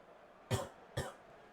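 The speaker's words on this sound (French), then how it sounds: "Je tousse encore un peu." Two short, sharp coughs about half a second apart, fairly close and clear, from someone playing Fall Guys, with no talking.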